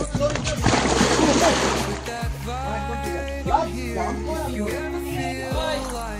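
A splash as someone enters a resort swimming pool, a burst of broadband splashing and sloshing water in the opening seconds that settles under voices talking and calling nearby.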